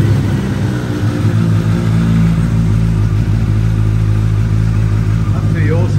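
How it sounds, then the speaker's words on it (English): A Suzuki GSX-S1000F motorcycle with an aftermarket Yoshimura exhaust runs steadily close by, a deep throaty rumble from the loud exhaust that holds an even idle with slight revving throughout. "spark her into life so you can have a little listen to that Yoshi exhaust"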